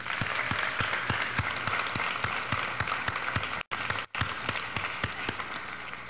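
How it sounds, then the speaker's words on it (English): Audience at a high school scholarship awards ceremony applauding, a steady wash of clapping from a crowd with a few sharper individual claps, briefly cutting out twice midway. "I want to give Mr. Glowacki a big round of applause."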